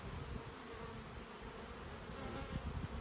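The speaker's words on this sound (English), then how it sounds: "So many bees in here." Bees crowd a beehive during a September inspection, producing a continuous, dense, low buzzing hum. It is faint and steady throughout, close up, with no talking.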